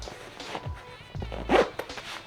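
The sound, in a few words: zipper of packing bag being closed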